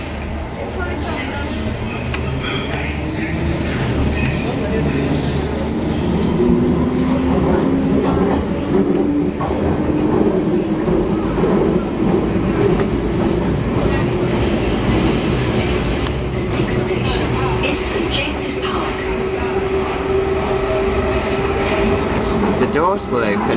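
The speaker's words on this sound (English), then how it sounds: "This is a district line train to Upminster. This accelerates nice and fast." A London Underground District line train to Upminster picks up speed with a rising electric motor whine over rumbling wheels and rattling carriages, loud and continuous throughout, a voice talking at moments.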